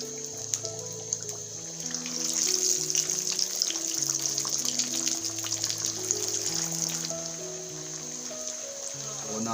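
Pieces of fish for a spicy Lahori fish fry crackle and hiss as they go into hot oil in a pan on a cylinder stove, a continuous bubbling sizzle under steady background music.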